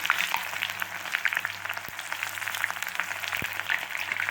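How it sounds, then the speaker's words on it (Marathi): Onions fry in hot oil for chicken biryani, a steady, close sizzling hiss with crackling bursts and a couple of sharp knocks, continuous and fairly loud. "कांदा तळून घेऊया"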